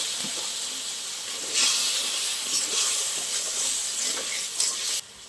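Poppy seed paste thinned with a little water sizzles and hisses steadily in a hot pan, a loud broadband steam burst with faint stirring scrapes beneath, ending abruptly near the end.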